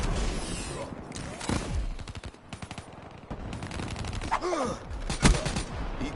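Automatic gunfire in Black Ops 3 rattles in quick repeated bursts, close and steady, with brief breaks and a few breathy vocal sounds mixed in.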